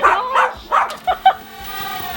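A small dog barking in a short burst of several sharp yips and barks, close by, trailing into a softer whimpering sound.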